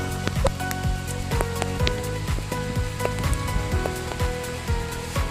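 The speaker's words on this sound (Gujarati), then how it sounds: "વરસાદ ચાલુ થઈ ગયો" Rain falling outdoors during a vegetable-picking trip, a dense steady patter with scattered sharp drops hitting surfaces nearby, continuous through the clip.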